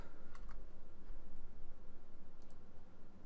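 Quiet, steady clicking of a computer keyboard being typed on, soft rapid keystrokes close by with no talking.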